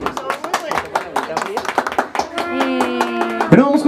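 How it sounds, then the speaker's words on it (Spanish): A small group at a birthday gathering with a youth mariachi claps in distinct, fairly close individual claps, with a voice speaking over them and a sustained sung or played tone rising near the end. "Bravo. Aplausos, sí,"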